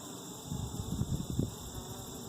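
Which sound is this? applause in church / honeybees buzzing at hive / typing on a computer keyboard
honeybees buzzing at hive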